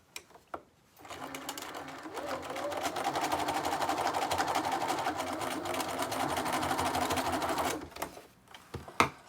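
Sewing machine running a continuous stitch straight across a dress strap, close and steady for several seconds, with soft handling noises before and after.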